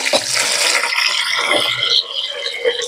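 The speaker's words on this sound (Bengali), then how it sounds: "কয়েকটা বাসন শুধু আছে, 3-4টে বাসন, চায়ের বাসন আর একটা কড়াই, এগুলো শুধু ধুয়ে নেব।" Tea pots and a kadai washed under water, with close, continuous splashing and gushing of running water over the metal pans.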